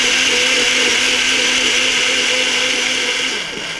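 A blender whirs loud and steady while mixing a juice of lemon, water and mint, a close constant motor drone that eases slightly near the end.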